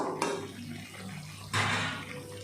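Water poured into a pan of frying local chicken meat, a short splash at the start and a louder hissing, bubbling rush midway as the liquid hits the hot meat, heard up close.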